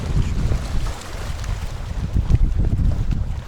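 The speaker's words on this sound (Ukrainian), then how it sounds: "у нас змінилася погода, дує вітер, волна така" Steady wind buffets the microphone while water sloshes and laps around a boat, a continuous rough rumble with no voices.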